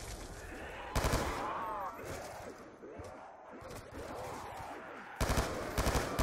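Bursts of automatic gunfire from the video game Black Ops 2, with loud volleys at the start and end and busy game effects and voices in between.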